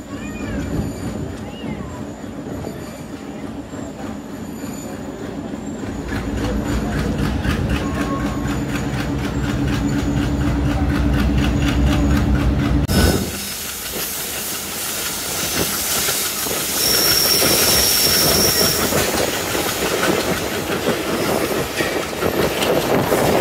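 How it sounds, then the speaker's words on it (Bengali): Nakshikatha commuter train, bound for Khulna, pulling out of Kamalapur railway station in Dhaka, heard from on board: a steady rumble and clatter with hissing that grows louder and shifts abruptly partway through. "খুলনাগামী নকশিকাথা কমিউটার ট্রেনটি এখন কমলাপুর রেল স্টেশন ছেড়ে যাচ্ছে।"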